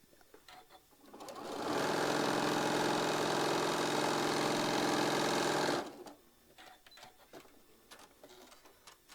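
A sewing machine stitches a quarter-inch seam along the edge of a quilt block, running in one steady, loud, even whir for about four seconds before stopping, with quieter handling noises before and after.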